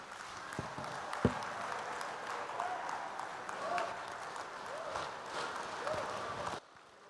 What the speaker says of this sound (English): Unprecedented standing ovation for him.